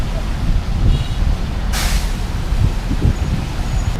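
Street traffic on Beach Road in Pattaya, Thailand, heard while walking: a steady low rumble of passing vehicles with a sharp hiss of an air brake partway through, close and continuous.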